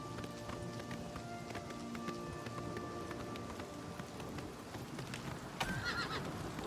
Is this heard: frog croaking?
no